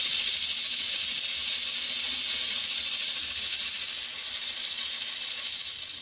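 Spalted hackberry wood being sanded on a running lathe gives a steady, even hiss that holds at one level for the whole stretch and eases slightly at the very end.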